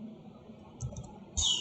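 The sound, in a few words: typing code on a computer keyboard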